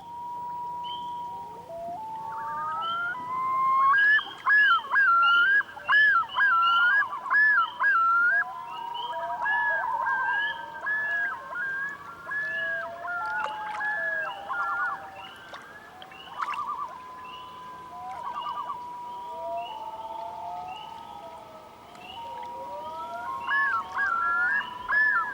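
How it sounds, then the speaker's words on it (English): Common loons call across a northern Canadian lake, with long wails, rising yodels and quavering tremolos repeating and overlapping, clear and echoing at a middle distance over a faint background hush. "Every male has a unique yodel, which allows other loons to identify him in the dark or at a distance"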